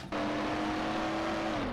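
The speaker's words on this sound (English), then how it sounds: "this car is loud!" A loud car engine in the video game Mafia roars steadily for under two seconds, its droning pitch holding then sliding slightly downward near the end, with no talking.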